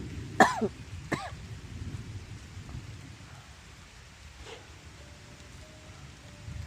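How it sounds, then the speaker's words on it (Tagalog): Steady rain hisses throughout, with a couple of sharp coughs or throat-clearing sounds near the start and a faint tone later on. "Palakas na po yung ulan mga tol."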